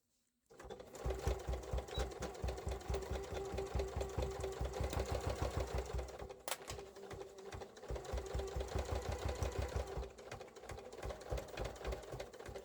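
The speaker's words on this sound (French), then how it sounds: "on va aller coudre tout le long ici à 1 cm et là" A sewing machine stitches fabric for a pencil case organizer along a 1 cm seam, a steady rapid mechanical chatter running close and loud in two long passes with a brief pause between, no voices.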